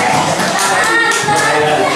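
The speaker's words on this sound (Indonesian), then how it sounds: "Tepuk tangan." Students in a classroom clap their hands in a continuous, busy patter mixed with children's voices, loud and close throughout.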